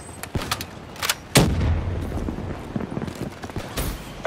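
Gunfire in the Call of Duty: Black Ops III multiplayer video game, with sharp, irregular shots cracking out over a busy, rumbling battle background, one heavier blast standing out among the scattered reports.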